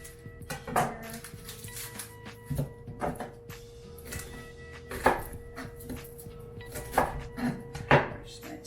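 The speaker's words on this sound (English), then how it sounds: "Now I'm gonna chop my onions." A knife chops onions on a cutting board for a vegan seaweed vegetable stock, giving sharp, irregular chopping thuds in a quiet home kitchen, close and moderately loud with no talking.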